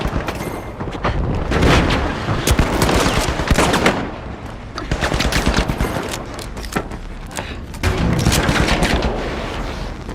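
Heavy video-game combat plays out as sustained, loud rapid gunfire with rolling booms and blasts, one continuous volley pausing briefly before surging again, with no voices.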